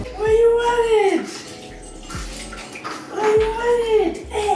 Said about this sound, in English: Someone is having a bath shower.